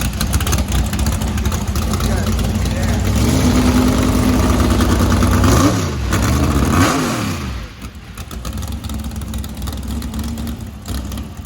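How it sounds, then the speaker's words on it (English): S&S Motorsports drag car engine at a charity car festival, loud and close, idling roughly then revving hard in rising and falling sweeps before settling back to a rumbling idle, with people talking underneath. "And then S&S Motorsports fires up their freaking drag car."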